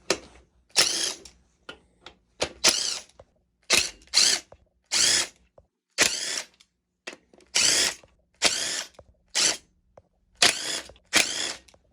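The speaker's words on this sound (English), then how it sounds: "So now I'm going to remove the girdle. So it's the 10 bolts right here" A power tool, likely an impact gun, spins off 14 mm girdle bolts from a Honda D16Y8 engine block, about a dozen short loud whirring bursts separated by quiet gaps, close up with no talk.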